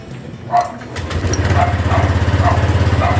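Honda Click 125 scooter engine starting with one press after a new SPower YTX5A-BS battery is fitted: a short cranking burst, then the small engine catches and settles into a steady, pulsing idle close by.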